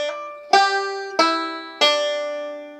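Bluegrass banjo picks measure 3 of Hard Times Come Again No More: four bright plucked notes, the last three evenly spaced and left ringing, played close and alone with no voices.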